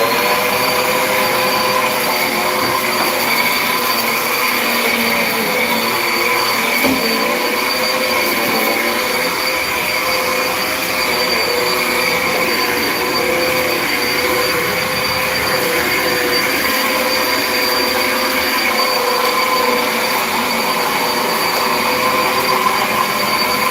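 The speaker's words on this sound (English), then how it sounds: "This vacuum is literally obnoxious, so loud." A vacuum cleaner drones loudly and steadily, a constant motor roar with a high whine running unbroken throughout, no voices.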